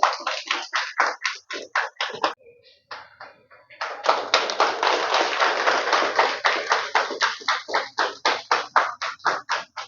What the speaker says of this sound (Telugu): దగ్గరగా మనం క్లాప్ పెట్టి వాళ్ళని అభినందించాలి